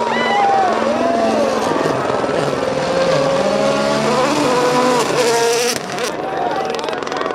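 A rally car on the Safari Rally in Kenya sweeps through a corner, its engine roaring close and loud with rising and falling revs. Excited commentary and crowd voices run over it, then the sound drops away near the end.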